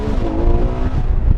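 A Ferrari Monza SP1 with an 809-horsepower rear-wheel-drive engine revs hard, a loud, close, rasping note with a rising harmonic whine, heard alone.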